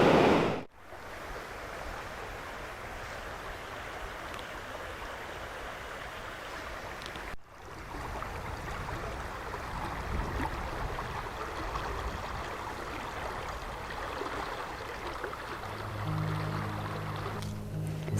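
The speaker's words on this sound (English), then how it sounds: "looking at this gushing weir" A river weir on the Tone at Bradford on Tone in Somerset, water gushing over it in a steady, broad rushing roar heard from nearby with no talk.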